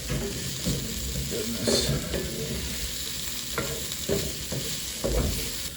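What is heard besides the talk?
squash frying in pan for chili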